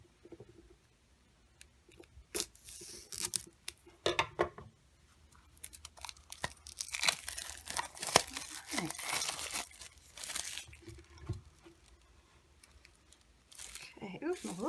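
Plastic wrapping is peeled and torn off a Hezicos tarot deck, giving close crinkling, crackling and sharp tearing bursts that swell in the middle and trail off, with a voice speaking intermittently over it.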